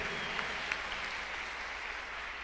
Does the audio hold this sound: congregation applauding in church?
yes